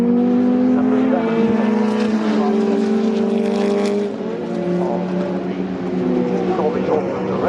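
A sports car races past during qualifying at Donington Park in an FIA Masters Sports Car Legends session, its loud engine note sustained and close, rising and falling in pitch as it passes, with a commentator talking over it.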